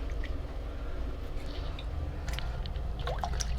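Water runs and drips over hands as alum is rinsed off after a straight razor shave, a steady close splashing with small scattered drips throughout.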